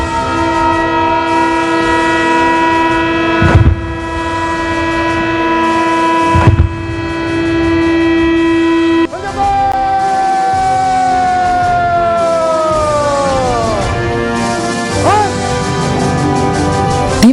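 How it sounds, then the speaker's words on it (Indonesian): A wailing siren at an Indonesian Independence Day flag ceremony, holding steady tones then sliding down in pitch, with two sharp booms from ceremonial cannon shots around the middle and another near the end. "upacara pun dimulai dengan 17 kali tembakan meriam serta bunyi sirine"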